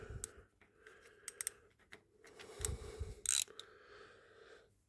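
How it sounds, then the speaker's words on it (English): A ratchet wrench tightening on a David Brown 1490 tractor gives sharp irregular metallic clicks and clacks, close by, with quiet gaps between bursts and no talk. "It's just you ratcheting away, click, and you're going the other way."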